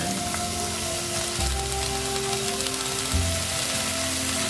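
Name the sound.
bottle gourd peel and potato frying in mustard oil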